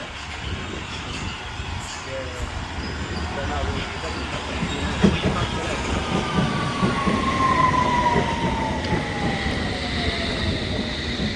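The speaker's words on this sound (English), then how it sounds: "Another train coming in." A London Underground Metropolitan line train pulls into a station, its rumble building, with rising wheel squeal and clatter as it slows. Station ambience surrounds it.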